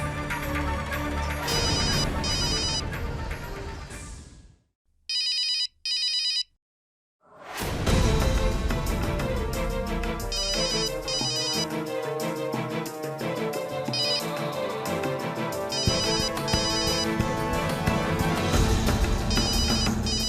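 A mobile phone ringtone plays in a Turkish-dubbed Indian drama scene, a loud repeating electronic melody that cuts out briefly midway before resuming and ringing on steadily without any voices.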